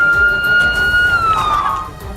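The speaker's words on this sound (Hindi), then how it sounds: "पूरे इलाके में सायरन की आवाज भी गूंज रही थी" A wailing emergency siren with a steady high tone that bends downward, heard over a noisy outdoor background with voices, in Gaza near a burning building.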